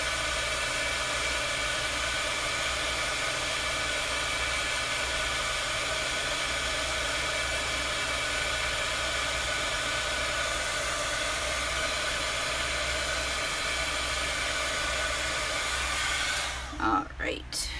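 A handheld hair dryer blows a steady, loud, continuous whoosh to dry chalk paste on a Chalk Couture transfer, then cuts off abruptly near the end.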